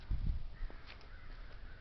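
Crows cawing outdoors over open air, a few rough calls heard faintly and somewhat far off above low wind rumble and background noise.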